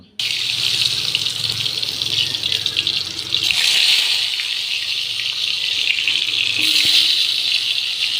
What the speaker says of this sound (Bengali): এগুলো আমি তেলে ভালো করে ভেজে নেব।